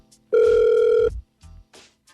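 A single long telephone tone sounds during a radio station call, loud and steady for under a second, followed by a few faint short blips.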